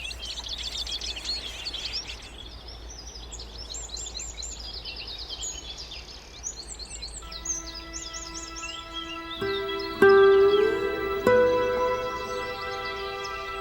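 A goldfinch calls among twittering birds in the open countryside, with bright chirps and trills spread over the clip, fairly faint and distant at first, then a few clearer, closer calls near the end.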